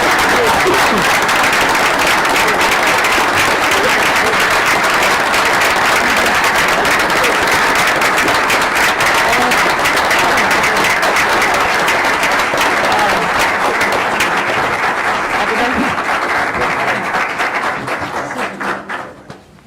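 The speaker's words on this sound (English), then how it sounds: "Round of applause." At a regular school board meeting, the audience gives a long, loud, continuous round of applause for a district honored by the National School Boards Association. It stays dense and even for almost twenty seconds before tapering off at the very end.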